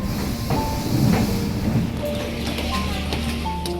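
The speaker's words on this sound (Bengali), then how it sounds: "ট্রেন এখন চণ্ডীগড় ঢুকছে" A train rolls into Chandigarh station with a close, steady rumble, faint squealing tones and light hissing over a few seconds.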